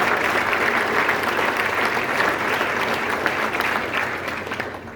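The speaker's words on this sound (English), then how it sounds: "Let's give them all a round of applause." An audience at a military panel event claps loudly and continuously, a dense close wash of applause that tapers off slightly toward the end.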